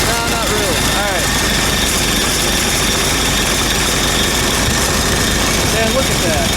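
An old tractor engine, warmed up, idles with a dense, steady rumble and rattling vibration throughout, close and loud, with a voice faintly present beneath.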